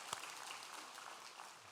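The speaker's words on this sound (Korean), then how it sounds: "박수로 축하하겠습니다" Faint, steady applause from a church congregation during a Sunday worship service, a soft continuous patter of many hands that runs the full short span without a break.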